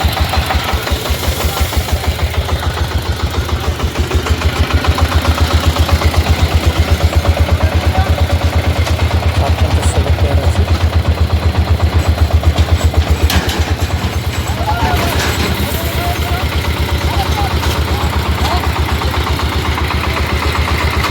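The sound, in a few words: vehicle engine idling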